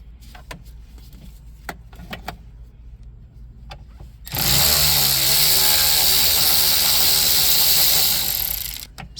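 A power driver spins out 7 mm bolts holding the navigation module behind the Sync 3 screen in a 2017-2022 Ford F-150 dash: a few faint clicks, then a loud, steady mechanical whir for about five seconds before stopping.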